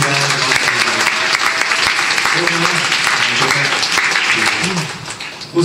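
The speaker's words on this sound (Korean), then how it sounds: "많은 박수와 환호 여러분 쳐주시고" Dense, sustained applause with cheering from a small-theatre concert audience fills the whole stretch, loud and close, with voices shouting through the clapping and a sharp burst right at the end.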